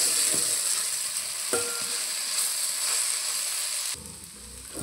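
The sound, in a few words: okra (ladies' finger) frying in oil and being stirred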